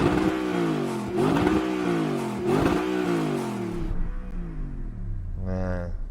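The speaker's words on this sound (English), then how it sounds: "let's compare how all these cars sound when you rev them up for the carwow sound check. So let's go with the original V8 first." Original Audi R8 with a V8 engine, revved hard three times in quick succession, each rev rising and falling loudly up close before the note drops to a lower idle and ends with a short blip.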